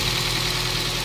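Overhauled Toyota Vios engine, noisy after its overhaul, idles in a short, steady burst of close, even mechanical rumble with a faint knocking texture and no talking.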